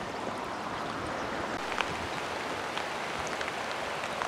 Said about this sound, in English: water running onto the property